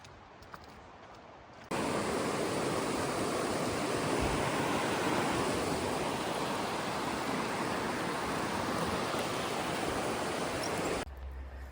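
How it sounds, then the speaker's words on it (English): The muddy East Fork Hood River near Tamanawas Falls in Oregon rushes as a loud, steady broadband roar, cutting in abruptly and holding constant before dropping away at the end. "that is the East Fork Hood River"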